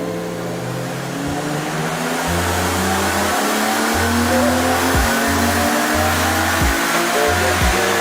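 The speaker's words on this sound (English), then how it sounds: "Screaming at the top of the RPM with individual throttle bodies" A high-revving BMW M3 engine with individual throttle bodies screams up through the gears, with sharp shifts and repeated surges of throttle, loud and close.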